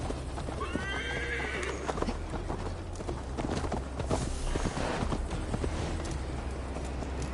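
Horse riding in the game Assassin's Creed Valhalla: steady clip-clop of hooves with a clear neigh early on, over a constant background of game ambience, close and loud throughout.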